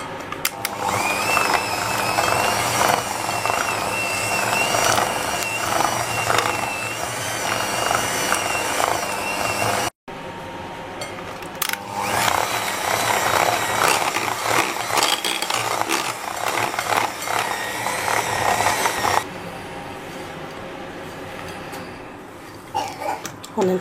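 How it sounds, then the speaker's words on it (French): Sachertorte batter being whisked with egg yolks in a bowl, a continuous close mechanical whirring and rattling that runs steadily with one brief break and then eases toward the end, with no talk. "Et on continue toujours à fouetter très bien avant l'ajout du troisième jaune d'œuf."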